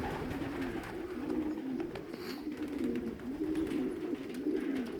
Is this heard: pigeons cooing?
yes